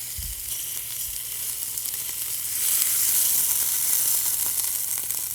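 Frozen ground beef frying in a pan gives off a steady, bright sizzle and hiss that swells louder midway, close and continuous, with a couple of soft low knocks near the start.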